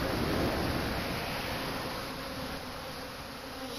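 A honeybee swarm buzzes steadily as it moves itself into a hive set over a towel, a dense, continuous close-up drone with no breaks.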